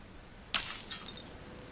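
A crystal shatters in a sudden burst of breaking glass, followed by a brief scatter of tinkling shards, heard alone against a quiet background.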